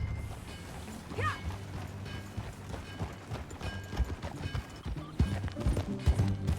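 Horse hooves clip-clopping in a western video game, an irregular, close series of hoof knocks that grows louder toward the end, mixed with light mechanical rattles and low background noise.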